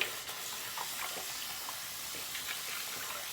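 Running water from a tap rinses Williams shaving mug soap off a hand, a steady, even hiss of flowing water throughout, moderately quiet and with no voice.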